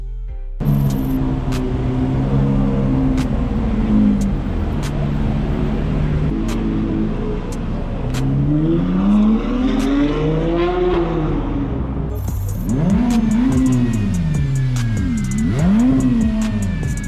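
A Ferrari LaFerrari supercar drives through London streets, its engine rumbling loudly and revving up and down with sweeping pitch changes over city traffic noise, close by for most of the stretch.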